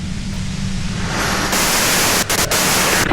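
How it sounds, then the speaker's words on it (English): Steady hiss of white-noise static in the game Disco Elysium, loud and continuous, brightening partway through and broken by a couple of brief dropouts near the end. "you can do it through the white noise"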